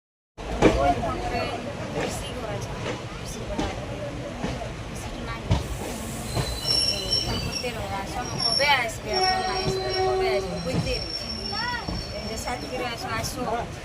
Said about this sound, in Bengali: আর আমাদের ট্রেনও চলে এসেছে। তো ট্রেনে উঠে বসি